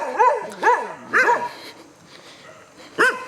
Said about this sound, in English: even the dogs interrupt me, you see?